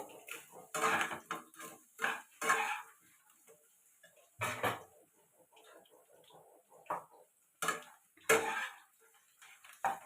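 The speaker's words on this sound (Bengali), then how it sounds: "আরো দুই তিন মিনিট একটু নাড়িয়ে নেবো" A spoon stirs spices in a cooking pot while fish-head mung dal is being made. It gives irregular metallic scrapes and clinks in short bursts with quiet gaps between them, heard close up with no talking.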